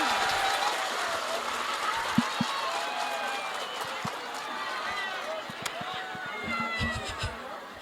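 A crowd at an Islamic religious lecture gives a burst of applause, a moderate wash of clapping mixed with babbling voices and scattered knocks, under continuous background chatter.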